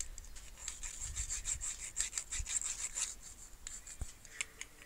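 A homemade pocket flute's mouthpiece being filed, giving soft, quick, rhythmic rasping strokes, close but faint, with no voices.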